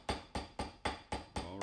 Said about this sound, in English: I'm not used to these peening rivets.